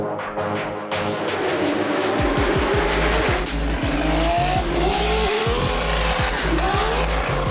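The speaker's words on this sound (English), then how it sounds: "take a whole bunch of high-powered street cars and throw them down the front straight as fast as they can go" High-powered time attack cars, including GTRs and twin-turbo Lamborghinis at the World Time Attack Challenge, scream at full throttle down the front straight with loud rising engine notes, rapid shifts and a deep thumping drone, constant and close.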